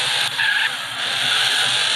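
Tires skidding and a car engine driving in GTA San Andreas, a steady loud screech of sliding wheels that runs almost unbroken through the whole stretch, with a brief dip early on.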